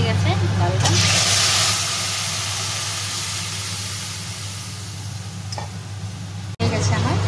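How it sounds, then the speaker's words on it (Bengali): A kitchen chimney exhaust hood runs with a constant low hum and airy hiss, while dal cooks and sizzles faintly underneath, steady throughout apart from a brief break near the end. "চিমনিটা চলছে বলে একটু আওয়াজ হচ্ছে"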